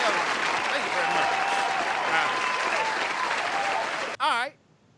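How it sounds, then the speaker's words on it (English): Loud, sustained applause from an audience at a live show fills the room, steady for about four seconds before cutting off; a voice briefly follows at the end. "Give yourselves a round of applause."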